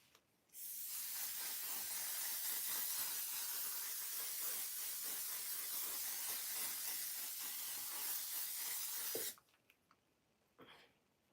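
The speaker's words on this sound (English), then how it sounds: "This is the freezing spray." A makeup setting spray mists from its bottle in one long, steady hiss lasting several seconds, close and even, then cuts off abruptly into near silence.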